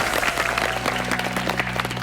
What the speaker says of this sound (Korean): 큰 박수로 환영의 박수